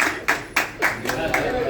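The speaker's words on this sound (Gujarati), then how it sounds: "તાળીઓ વગાડીને એમને સન્માનિત કરીશું આપણે સૌ" A group claps hands at a small shop opening, producing a brief burst of about five close, loud claps in quick succession.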